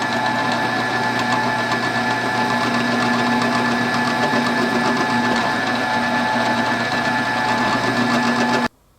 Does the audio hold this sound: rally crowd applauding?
no